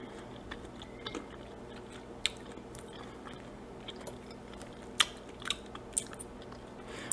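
Soft chewing of a small piece of cantaloupe at a mukbang, quiet moist mouth sounds with a few sharper crunchy bites scattered through a calm background.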